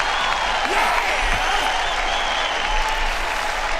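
A steady wash of hand clapping from a crowd, continuous and even for a few seconds with no talking over it.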